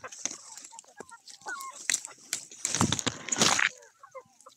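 Chickens clucking and squawking in short bursts, fairly close, with a busier flurry of calls near the end and some faint background noise.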